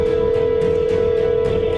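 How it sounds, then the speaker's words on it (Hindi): Phone ringing tone as a sound effect, a steady, loud continuous tone with faint periodic pulses, holding unbroken for about two seconds before cutting off. "शॉन फिर से बाबा को फोन लगाने की कोशिश करता है।"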